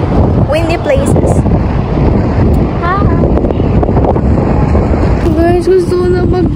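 Strong, steady wind roars across the microphone throughout, with voices briefly audible beneath the rushing noise.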